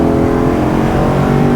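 Chevrolet Corvette engine revving hard as the car accelerates on a race track, a loud, steady drone heard from close by with no talk over it.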